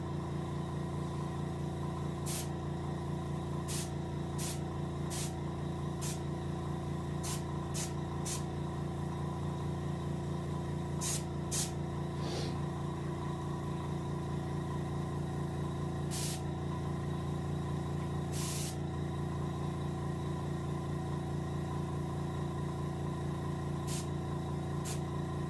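Compressor-driven spray gun hissing steadily while painting a hybrid striped bass for taxidermy, a constant mechanical drone with short sharp bursts of spray scattered throughout, close and without talk.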